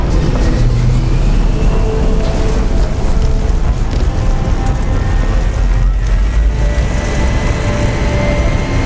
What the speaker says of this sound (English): Turn on those emergency engines!